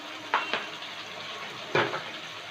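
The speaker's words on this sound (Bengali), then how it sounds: "এবার মশলাটাকে কষিয়ে নেব" Ground onion, ginger, garlic and green chili paste with turmeric frying in a pan, a steady soft sizzle broken by a few sharp clinks and scrapes of a utensil against the pan.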